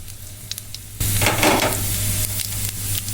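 Whole cumin seeds dropped into hot oil in a kadai, a sudden loud sizzle bursting in after a quiet second and crackling steadily close up, with faint stirring.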